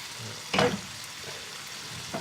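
A sizzling vegetable vindaloo in British Indian restaurant style is stirred in a pan, with a soft steady fry broken by one loud scraping stir and a brief second clatter.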